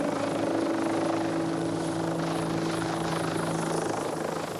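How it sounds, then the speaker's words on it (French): A rescue helicopter collecting a patient and medical team during a Marseille firefighters' mission, its rotor and turbine roaring loud and steady with a constant whine throughout, no voices. "Le malade et l'équipe médicale sont récupérés par l'hélicoptère."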